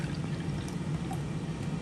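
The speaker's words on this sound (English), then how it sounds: "You're going to pour a half of a cup." Unsweetened almond milk pours in a steady, even stream into a measuring cup, a soft continuous liquid rush lasting under two seconds with no talking.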